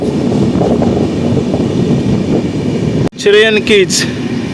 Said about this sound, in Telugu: చిరైన్కీజు రైల్వే స్టేషన్ లోపలికైతే ఎంటర్ అవుతున్నాం ఇప్పుడిప్పుడే